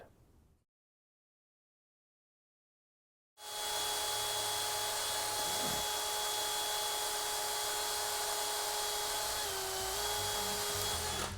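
A drill bores through a Porsche rear main seal during engine work, starting after a few seconds of near silence and then running as a steady, close whine.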